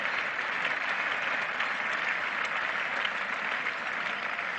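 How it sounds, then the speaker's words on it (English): Cricket crowd at a 1976 England versus West Indies Test match applauds a 100-run partnership, a steady, dense wash of clapping from a large, distant stadium audience that continues unbroken. "Another roar of applause, because that brings up the 100th partnership."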